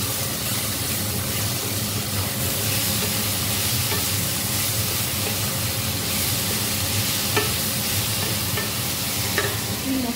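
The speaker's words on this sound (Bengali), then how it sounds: "আজকে পেঁয়াজ রসুন দিয়ে আলুগুলোকে আর টমেটোটা ভেজে নিচ্ছি" Potatoes and tomatoes frying with onion and garlic in a pan, a loud, dense, continuous sizzle up close with faint stirring scrapes, steady throughout with no talking.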